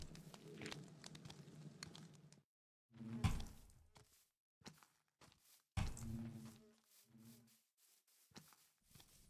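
Soft blocky footsteps from a dog following the player in Minecraft, scattered irregular steps and thuds around a patch of low rumbling game ambience, with no speech.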